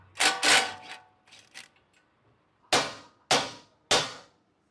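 Sharp metallic clicks and clanks from working a 19mm socket on a nut of a 2008 Honda Civic front wheel assembly, two close strikes followed by softer rattles and then three evenly spaced loud snaps.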